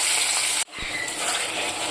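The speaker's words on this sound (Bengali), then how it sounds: "এটাকে এবার লাল লাল করে ভেজে নেব।" Chopped onions frying in hot oil, a bright hissing sizzle that cuts out abruptly for a moment, then resumes steady and close after a small thump, no voices.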